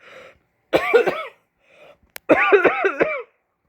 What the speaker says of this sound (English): I still cough in my hand